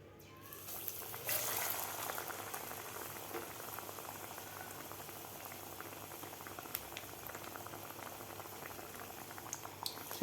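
Aloo vada, potato fritters, fry in hot oil with a steady, dense bubbling sizzle heard close up, swelling slightly early on and then holding constant, with scattered small pops and no talking.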